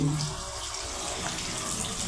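Water runs steadily from a worn pipe tap that will not shut off, a continuous close splashing rush with no voices over it.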